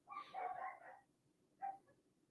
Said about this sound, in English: And I hear dogs outside.